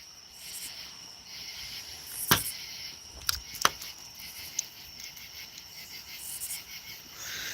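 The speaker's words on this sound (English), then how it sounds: "We got crickets. We got katydids." Crickets and katydids chirp through a summer night outdoors, a steady high-pitched insect drone with a few sharp nearby knocks or clicks cutting through.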